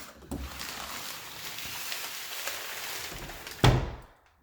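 The door of a 2010 car swings shut and latches with a single solid thunk near the end, after a few seconds of quiet room noise and a faint earlier knock.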